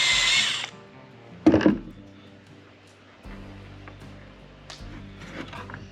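Installation tool driving a horizontal chicken waterer nipple into place, a short whirring burst at the start, then a brief louder buzz and faint mechanical clicks, close by.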